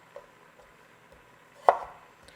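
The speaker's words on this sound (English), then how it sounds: "getting these into little matchsticks" A kitchen knife slices vegetables into small matchsticks for Asian lettuce wraps. A faint tap comes first, then one crisp, close chop lands later in an otherwise quiet stretch.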